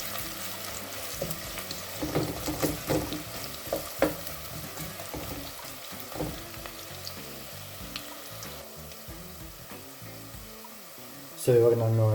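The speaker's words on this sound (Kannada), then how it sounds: "ಸೊ ಮೊದಲಿಗೆ ಈರುಳ್ಳಿ ಹಾಕ್ಕೊಂಡಿದ್ದೀನಿ. ಸೊ ಇದನ್ನು ನಾವು ನೀಟಾಗಿ ಸ್ವಲ್ಪ ಬ್ರೌನ್ ಬರೋವರೆಗೂ ಇದನ್ನ ಸ್ವಲ್ಪ ಫ್ರೈ ಮಾಡ್ಕೊಳ್ಳೋಣ." Onions fry in oil in a pan with a continuous soft sizzle and scattered stirring scrapes. A brief louder splash or clatter comes at the very end.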